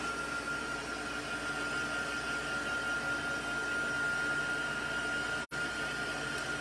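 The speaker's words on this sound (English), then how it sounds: "I'm just going to hit it with my heat embossing tool for a moment" A heat embossing tool blows hot air onto wet craft paper, a steady close whirring hiss that runs continuously, broken by one brief cutoff before resuming.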